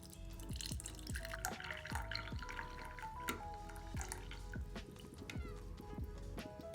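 Boiling water poured into a ROK GC manual espresso maker to preheat it, with trickling, dripping liquid and small clinks and knocks, fairly close and quiet.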